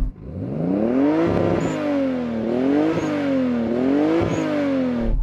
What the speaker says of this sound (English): And now the Toyota Supra.